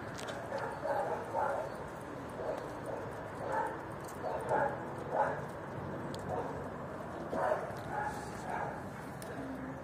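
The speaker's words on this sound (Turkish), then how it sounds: "Köpekler bir şey havluyor." Dogs bark at a pigeon-keeping rooftop, a series of faint, somewhat distant yips and barks recurring every second or so.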